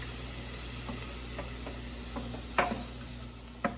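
Bell pepper and garlic sautéing in a pan, a quiet continuous sizzle and hiss with a few soft stirring clicks and taps, two of them a little sharper near the end.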